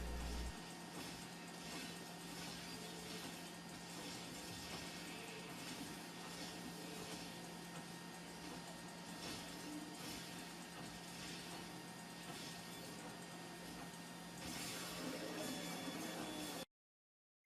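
A 3D printer runs a nylon carbon fiber filament print at around 250 degrees C, its steady mechanical whir and ticking of moving parts continuing evenly and up close for the whole stretch with no voices.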